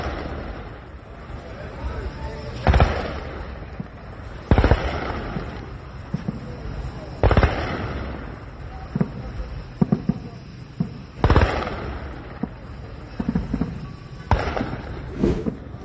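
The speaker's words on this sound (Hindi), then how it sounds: "मशहद पर तो कई धमाके साफ सुनाई दिए हैं।" Repeated explosions from strikes on Mashhad, Iran, thud in sharp bursts every couple of seconds, each a loud broadband blast decaying quickly against a rumbling night background.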